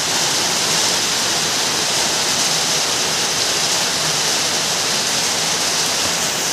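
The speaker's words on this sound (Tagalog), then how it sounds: "lakas ng ulan dito, guys" Heavy rain pours down in a dense, steady roar of broadband hiss, loud and close, continuous without break.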